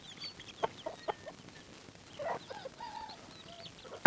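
A chicken in a rural home yard gives a few short, scattered clucks and squawks, moderately close, with quiet pauses between and a sharp louder burst at the very end; no one speaks.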